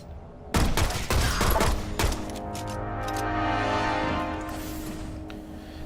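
Gunfire in the video game Shadow Complex, a dense burst of rapid shots for about two seconds that fades into a sustained electronic hum and rumble.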